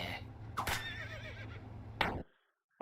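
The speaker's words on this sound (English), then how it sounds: "What the heck was that freaking horse noise?" A horse neighs in a loud, wavering whinny that lasts over a second, then cuts off sharply, as a sound effect in the Henry Stickmin Collection video game.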